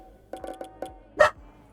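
A dog in the video game Ghostwire: Tokyo gives a quick run of four short barks, then one louder, sharper bark, close and clear against a quiet game background.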